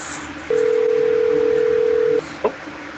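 A single steady ringing tone from a Skype phone call sounds once, clear and close, then stops into near silence.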